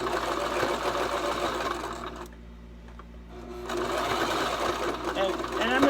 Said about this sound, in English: your sewing machine will sew over the pins